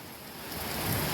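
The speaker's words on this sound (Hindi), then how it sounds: "और देखो कितनी तेज बारिश आ गई है।" Heavy village rain pours steadily outdoors during a stormy spell, a dense close hiss that swells slightly louder toward the end, with no voices.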